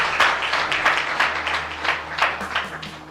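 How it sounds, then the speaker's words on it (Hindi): Audience clapping at a Ramayana recitation competition, a lively burst of applause with uneven, overlapping claps that rise and fall in waves across the whole stretch. "बिल्कुल तालियां।"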